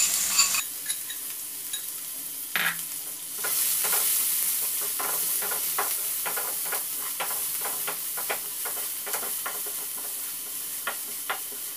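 Medium-sized onions frying in a pan give a continuous close sizzle with a steady run of sharp spatula taps and scrapes, loud and alone without any voices.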